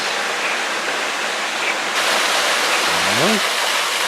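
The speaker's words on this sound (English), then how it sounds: "a beautiful waterfall running more than 30 meters down a cliff" Steady, dense roar of a jungle waterfall dropping more than 30 meters down a cliff, loud and continuous throughout, with a brief rising tonal sound near the end.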